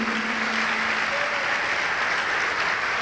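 A church congregation applauds steadily at a sermon, a dense, even wash of many hands clapping, fairly loud and continuous throughout with no talk over it.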